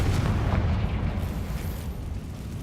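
A Confringo fire spell explodes in the video game Hogwarts Legacy, a loud close burst with a rumbling boom that fades out over a couple of seconds, with no talking.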